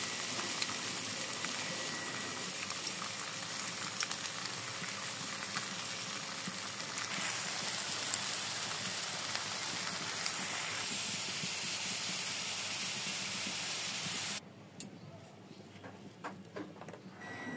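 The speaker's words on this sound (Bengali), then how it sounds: "এবার কড়াইতে তেল দিয়ে আলুগুলোকে ভেজে নিতে হবে।" Potatoes fry in hot oil in a wok, a steady close hiss of sizzling that runs evenly and then drops off sharply near the end.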